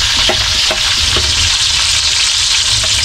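Onion, garlic and tomato fry for adobo in a loud, continuous sizzle, with a few soft clinks of stirring near the start.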